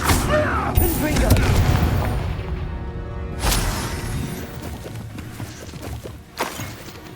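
Confringo blasting spells going off in Hogwarts Legacy, with loud booming explosion bursts and crackling debris, one heavy blast midway and a sharper hit near the end, over a dense rumbling game soundscape.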